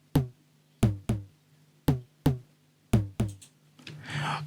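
Tom drum sample from FL Studio in an Afro house track, seven punchy pitched hits with quick decays and varied loudness in an uneven pattern, followed by a short burst of noisy texture.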